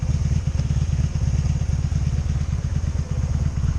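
A 2002 Honda Magna VF750C motorcycle idles just after start-up, its engine close and loud with a steady, rapid chugging pulse and no talking.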